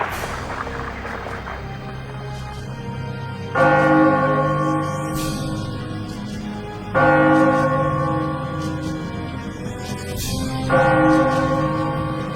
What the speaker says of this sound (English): intercut with this loud church bell